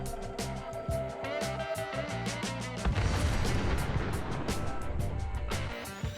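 Mini nuke blasts in Fallout 4 tearing apart a raider camp: a string of heavy booming detonations with rumbling low-end roar, followed by a denser churning wash of explosive debris and crackle, loud and continuous.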